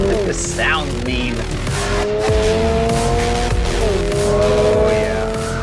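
A 2022 Subaru BRZ pulls hard with its engine revving up through the gears, the note climbing and dropping between shifts while the tires squeal close and loud.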